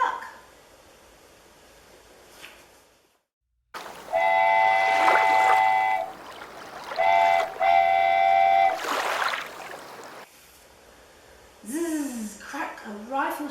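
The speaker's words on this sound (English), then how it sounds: "the steamer whistle screeched, "Toot, toot, toot!"" A steamboat whistle blows in two loud, sustained toots with a short gap between, followed by a wavering, sliding whistle tone.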